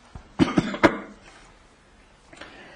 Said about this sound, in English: I've got a cough.